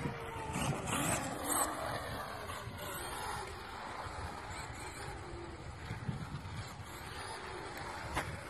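A Traxxas Stampede and an Arrma Granite radio-controlled car race outdoors, their electric motors whining under a continuous rush of wind and rumbling tyre noise, steady and moderately loud.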